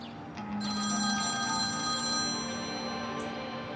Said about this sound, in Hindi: उसकी बात कर रहे थे और उसका फोन भी आ गया।